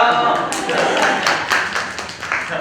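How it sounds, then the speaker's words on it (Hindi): An audience at a wildlife photography talk claps in a scattered burst of sharp hand claps, heard under and between ongoing conversational speech. "ये तालियां."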